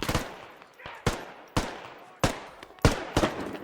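Several sharp bursts of automatic gunfire from the military shooter game Squad crack out at irregular intervals, each followed by a short echoing decay, fairly distant and not very loud.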